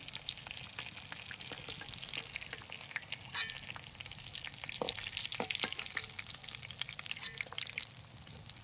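Fish fingers fry in a pan with a steady bed of sizzling and crackling oil, broken by sharp pops and light spatters throughout, fairly close and with no talking.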